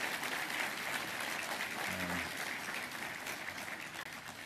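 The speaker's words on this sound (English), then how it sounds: "Let's give him a round of applause too" Audience applause at an Army awards breakfast forum, a steady broadband patter of many hands sustained through the whole span at moderate distance, with a brief low tonal murmur partway in.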